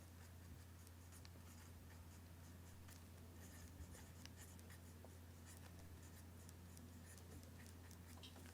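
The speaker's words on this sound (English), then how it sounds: "I need a grain line on the back piece." A pencil or marker scratches steadily across oak tag pattern paper while a grain line is drawn on a skirt sloper's back piece, quiet and continuous over a low steady hum.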